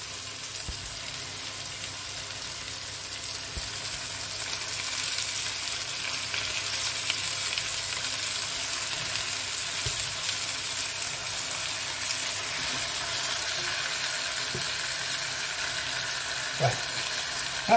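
Pork cheeks (carrilleras) sizzle and fry in a hot pan, a steady crackling hiss with occasional sharper pops and stirring clinks, fairly quiet and even throughout.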